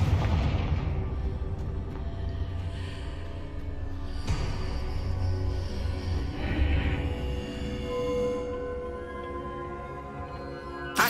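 Fiery Confringo spell blasts in Hogwarts Legacy boom and rumble through a dense, continuous mix of low explosive thuds and crackling, with sharper impacts around the middle and no talking over it.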